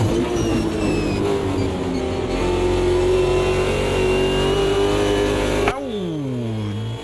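Super V8 race car engines at Bathurst in Automobilista 2 roar loud and close at sustained high revs, then drop sharply as the driver lifts and downshifts near the end.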